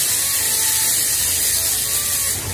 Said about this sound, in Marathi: थोडीशी जिरी, थोडासा कढीपत्ता आणि वाटलेली हिरवी मिरची आणि लसूण घालून घेऊया। हे थोडंसं आपण परतून घेऊया।